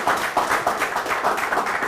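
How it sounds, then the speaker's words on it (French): Audience applause at a Cameroonian political campaign event: a broad, continuous wash of clapping with gently pulsing swells, moderately loud and with no voices over it. "On peut applaudir"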